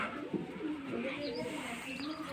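Low, throaty cooing of pigeons rolls on continuously, with a faint chirp or two, fairly close by.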